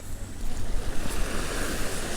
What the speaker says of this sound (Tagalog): Kasi medyo malakas yung alon.